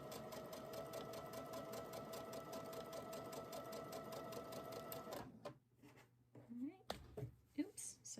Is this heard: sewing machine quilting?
yes